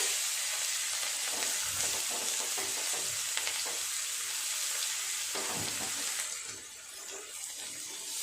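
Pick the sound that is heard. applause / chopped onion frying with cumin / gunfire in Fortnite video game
chopped onion frying with cumin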